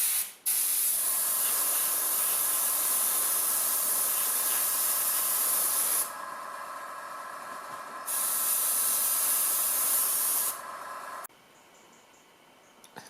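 A Humbrol rattle can mists matte varnish over a weathered Hornby Peckett industrial shunter model locomotive. Two long, loud, steady hissing sprays come close up, separated by a short pause, and a fainter hiss trails off at the end.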